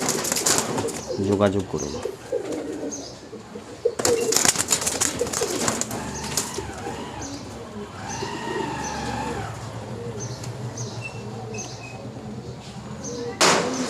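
Pigeons coo in soft, repeated throaty bursts at a pigeon market, mixed with flapping and market clatter while people talk over them.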